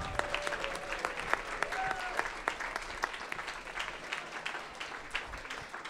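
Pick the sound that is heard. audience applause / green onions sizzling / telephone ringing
audience applause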